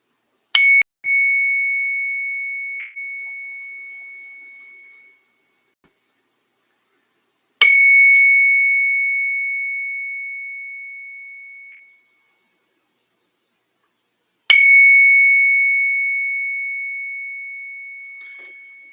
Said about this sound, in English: That 10 ouncer rings so nice.